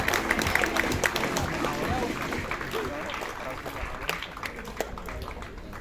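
Applause from an assembled crowd at the opening ceremony of a football tournament as team captains raise the Ukrainian state flag, steady and continuous clapping with voices mixed in throughout.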